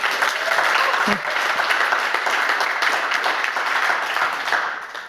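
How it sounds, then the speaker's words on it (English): Audience applause at a hybrid industry panel on documentaries and young people, a full, even round of clapping from the room while a speaker talks over it, fading slightly at the close. "So one big clap for the European Film Club as well."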